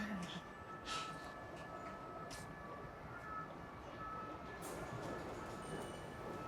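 Paris metro station ambience with a line 1 train, a steady low rumble of rolling carriages and station noise with faint squeals and clatter throughout, fairly distant and quiet.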